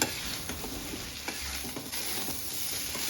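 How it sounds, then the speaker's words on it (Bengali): Diced young jackfruit stir-fried in a spice masala in a pan, a steady close sizzle with scraping stirs from a spatula and no voices. "এবার আমি মশলা এঁচোড় খুব সুন্দরভাবে এইভাবে কষে নেব।"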